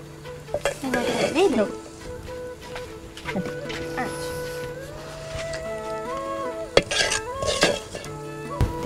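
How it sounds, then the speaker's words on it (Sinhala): Garlic, curry leaves and rampe tempering in coconut oil in a pan, sizzling and crackling steadily with stirring and utensil clatter, under ongoing talk and some background tones. "රම්පේ කරපෙන්ච සුදුලුණු දාලා හොඳට මේක තෙම්පර තෙලෙන් කර කරලා"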